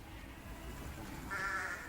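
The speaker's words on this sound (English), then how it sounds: "People look for the sheep." A flock of sheep in Munich's Englischer Garten park, a faint bleat rising near the end over soft outdoor ambience, distant and brief with no talking.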